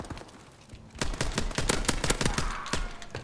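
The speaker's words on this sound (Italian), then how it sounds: "Se non spari a raffica con questa pistola, davvero non puoi aspettarti. Devi sparare" Rapid pistol gunfire in Call of Duty, sparse shots at first, then a dense burst of sharp, closely spaced cracks in quick succession.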